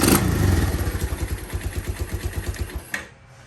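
A Yamaha DX motorcycle fitted with a Chinese carburetor idles with a quick, even pulsing beat, close and fairly loud, before the engine cuts off near the end, leaving quiet.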